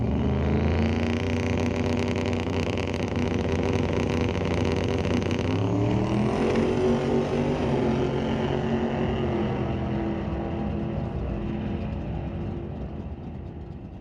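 A 2000 Ford Mustang makes a drag strip pass at a raceway, its engine roaring loud and steady through rising gear pulls with a clear shift partway, the sound holding strong before fading slightly at the end.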